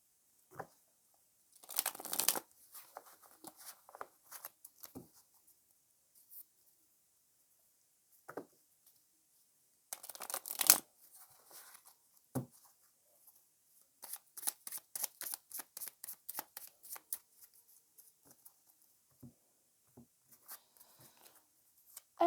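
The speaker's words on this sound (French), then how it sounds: "et je vais mélanger les cartes." Tarot cards riffle and slide as they are shuffled, in faint scattered rustles and brief flurries of close card taps, with a quick run of crisp snaps late on.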